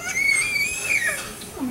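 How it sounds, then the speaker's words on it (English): A toddler's strained, whiny vocalizing, a rising and falling complaining cry while struggling, staying fairly steady in loudness without turning into full distress. "that's a sound of complaint and struggle, but it's not total distress"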